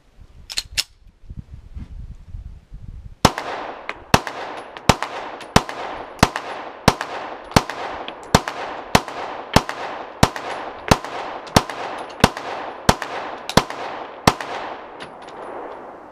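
Rapid series of sharp pistol shots from an early Gen 1 Glock 17, about eighteen evenly spaced reports fired in quick succession after a few faint handling clicks, each crack ringing briefly outdoors.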